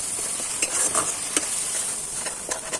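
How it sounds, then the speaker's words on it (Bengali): Eggs being stirred with Maggi masala, tomato sauce and a little salt in a pan with oil, a soft continuous sizzle under scattered scraping strokes of the utensil, no voices. "চলো এটাকে আমি ঘেটে নিচ্ছি।"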